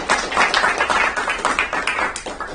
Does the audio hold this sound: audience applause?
yes